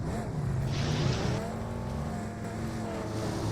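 A vehicle is driven in a video game, its engine a steady, loud, continuous drone with a brief brighter surge near the start.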